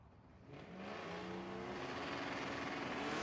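A Camaro runs down a drag strip, its engine rising from a distant whir into a loud, sustained roar as it accelerates closer and keeps pulling.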